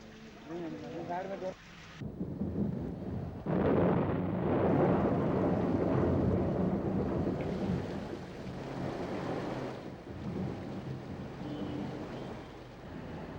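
Heavy rain pours steadily while thunder rumbles loudly, with a brief quieter moment at the start before the downpour swells.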